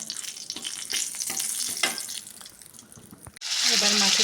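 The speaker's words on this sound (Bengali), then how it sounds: "এই তেলে কটা শুকনো লঙ্কা ফেলে দেবো ভাজা করে নেওয়ার জন্য।" Dried red chilies drop into hot oil left from frying fish, producing a close crackling sizzle that changes abruptly to a brighter, louder hiss partway through.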